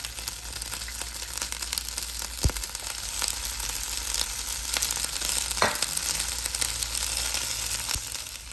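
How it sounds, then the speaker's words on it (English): Small sausages fry in oil in a pan, a steady soft sizzle with occasional pops and faint clinks of a utensil, no voices. "Next we are going to add in our small sausages so that they can cook"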